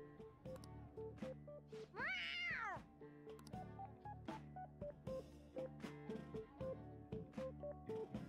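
A cat meows in Persona 5, one rising and falling cry over ongoing game music and sound effects.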